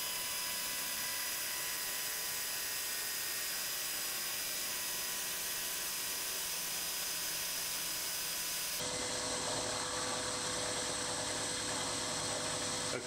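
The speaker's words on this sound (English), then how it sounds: "The cutting speed for aluminium is quite high, so I've got the milling machine set up in the highest speed range" A milling machine running at its highest speed range, about 2150 RPM, cutting aluminium for a custom Moto Guzzi Le Mans III top yoke: a steady high whine and hiss that shifts to a harsher, denser tone partway through.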